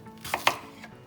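A knife chopping onion finely on a board, two quick close cuts over a faint background hum.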